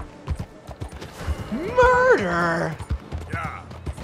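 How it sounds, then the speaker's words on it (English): A horse in the Red Dead game clops along with a rapid patter of hoofbeats and lets out one loud, drawn-out whinny midway, while someone shouts over it. "I'm gonna have to ditch the horse."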